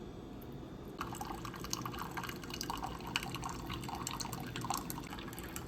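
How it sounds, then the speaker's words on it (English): Keurig K Supreme coffee maker brewing a vinegar rinse, a steady trickle and drip of liquid into a cup with a soft background hiss, continuous and close. "I'm going to press the K button again for a second brew."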